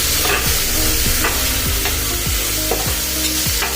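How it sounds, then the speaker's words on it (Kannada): Tomato avarekalu bath being stirred in a pan as spice powder is mixed in: a spoon scrapes the pan in steady rhythmic strokes over a continuous close, loud sizzle of frying. "ಅದನ್ನು ಹಾಕ್ತಾ ಇದ್ದೀನಿ. ಮಿಕ್ಸ್ ಮಾಡ್ಕೊತಾ ಇದ್ದೀನಿ."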